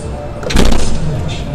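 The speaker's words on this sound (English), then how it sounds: "Close the automatic tailgate." Powered tailgate closing on a car shown at the 2015 Dubai Motor Show, a motor hum and latching thud lasting about a second at close range amid busy hall noise and voices.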